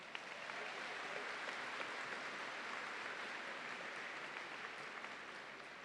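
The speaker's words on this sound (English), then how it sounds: "Let's give that a round of applause." Applause from a graduation crowd at a College of Business commencement ceremony, a steady dense wash of clapping heard from a distance at moderate level, without a break.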